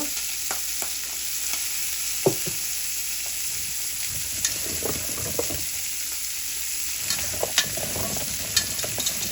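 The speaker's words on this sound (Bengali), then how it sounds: "এগুলোকেও আমি একটু" Taro corms seasoned with turmeric and salt sizzle and fry steadily in a pan, with occasional sharp clinks and scrapes of stirring.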